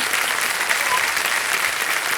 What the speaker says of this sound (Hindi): और ताली बजाई जाती है उनके लिए